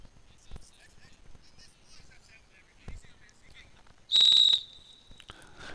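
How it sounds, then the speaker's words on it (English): A referee's whistle at a men's college soccer match blows one sharp, loud shrill blast after stretches of distant crowd noise and faint commentary. "There's a whistle."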